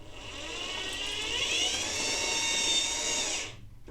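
An RB35 electric motor spins inside a Bruder D11 Cat model conversion, running slightly unevenly with a high, steady whine that holds for about three and a half seconds and then cuts off abruptly.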